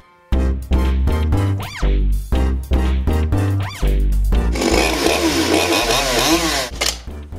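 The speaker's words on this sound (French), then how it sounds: "Cette douce gâchette qui fait rentrer cette tronçonneuse comme dans du beurre." A chainsaw cuts large wooden beams into firewood, loud and close, with short revving bursts that give way to a sustained high-pitched cutting roar through the wood.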